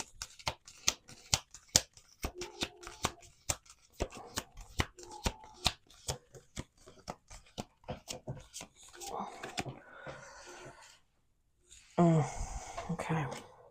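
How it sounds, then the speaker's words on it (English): A deck of playing cards being shuffled and handled on a table: quick dry clicks and taps, then longer riffling bursts near the end, close and fairly quiet. "I'm going to do one more shuffle."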